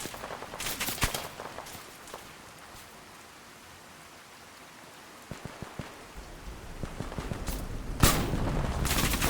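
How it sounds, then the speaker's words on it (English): Gunfire crackles in Fallout 4 over steady rainfall. Scattered shots and bursts come early, then the fire thins before building again into a louder volley near the end. "More gunshots to our left."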